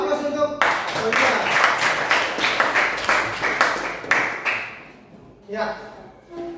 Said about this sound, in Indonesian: aplaus untuk Fauzia